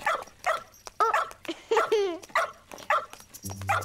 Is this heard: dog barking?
yes